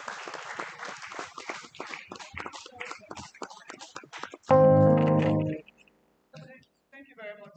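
Audience applause at a parenting summit in Africa, a dense run of many hands clapping for several seconds as a guest speaker is welcomed, then cut off by a brief loud tonal burst and quieter sounds.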